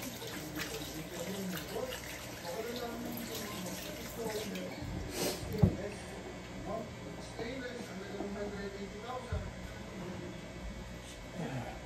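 Tap water runs steadily into a sink in a home kitchen while tocino is being prepared, a faint continuous splash with a few clatters of utensils and some speech over it.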